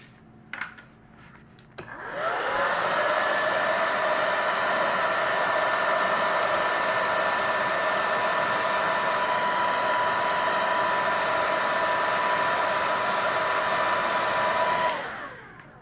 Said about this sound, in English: Could you do the hairdryer trick?